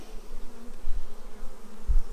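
Honeybees from a swarm transferred into a hive with starter-strip comb hum in a low, steady drone, close and continuous for a couple of seconds with a few louder thumps.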